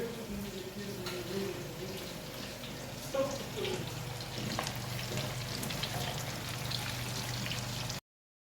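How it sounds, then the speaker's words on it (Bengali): Spicy masala fish pieces shallow-frying on a tawa pan, a steady crackling sizzle with light pops and spatters, fairly quiet, with faint voices in the background before the sound cuts off abruptly. "দেখুন মাছ ফ্রাই হচ্ছে এখানটাতে, দেখতেই পাচ্ছেন মাছগুলো সুন্দর করে ফ্রাই হচ্ছে।"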